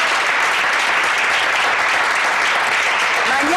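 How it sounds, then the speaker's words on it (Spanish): A studio audience on a televised lunch show claps in a loud, dense and continuous burst of applause that stays even from start to finish. "señora María Teresa Villarruel, mi comadre, que le mando un besito con este aplauso, María Teresa."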